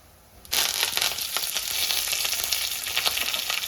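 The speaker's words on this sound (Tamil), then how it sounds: "கடுகு கடலப்பருப்பு பொரிஞ்சதும் நம்ம வந்து சின்ன வெங்காயம் கட் பண்ணி வச்சுருக்கேன் அதை சேர்த்திக்கலாம்" Mustard seeds, chana dal and small shallots frying in hot oil, starting abruptly with a loud, steady sizzle and crackle that continues close up with small pops throughout.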